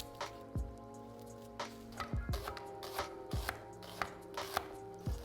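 Shallots are diced with a knife on a cutting board, giving a string of sharp, close chops in an irregular rhythm, some single and some in quick pairs, with no talking.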